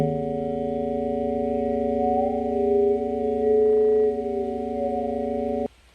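Synthesizer comb filter delay set to fast timing, producing a steady sustained buzzy harmonic drone with stacked tones and slight pitch wobble, loud and alone for several seconds before cutting off abruptly.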